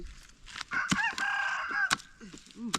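A rooster crows loudly and close, one long strained cock-a-doodle-doo with sharp clucks and squawks before and after, outdoors with no talking.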